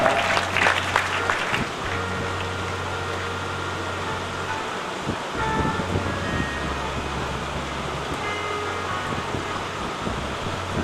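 Audience applause at a devotional Shrimad Bhagwat program held at a cow shelter, strongest in the opening moments and then settling into steady, moderate clapping beneath a constant fan-like hum.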